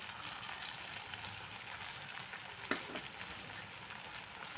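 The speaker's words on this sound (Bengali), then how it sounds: "একটু টমেটো কচি দিয়ে এটাকেও ভেজে নেব" Tomato frying in a pan for egg curry, a faint, even sizzle and crackle throughout with one brief clink near the middle; no talking.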